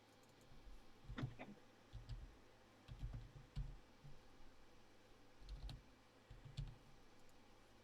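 Keys clatter on a computer keyboard in short irregular bursts of soft clicks and taps, faint and close, with quiet gaps between each flurry of typing.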